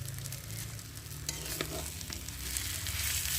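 Chicken sizzles steadily in oil in a pan, a continuous close frying hiss with a few faint clicks of stirring, and no voices over it.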